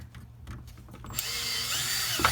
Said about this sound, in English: Get your drill. Get a bigger bit.